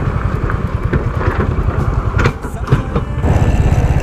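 A Hunter 350 motorcycle starts and pulls away on a road ride, its steady low engine rumble running throughout with wind buffeting the microphone and a rise in revs near the end.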